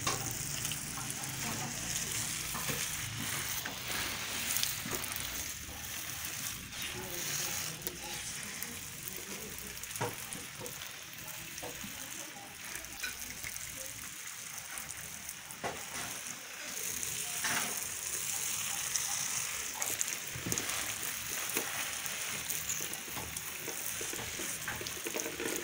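Water splashes and trickles steadily over orchid pots and baskets, a continuous close wash of pouring with faint scattered knocks.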